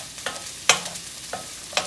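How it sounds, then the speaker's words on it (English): Onions being stirred as they fry in oil in a pan to soften, with a few sharp spoon scrapes and clicks at irregular intervals over a faint, steady sizzle. "it's probably best to keep stirring them so they don't stick"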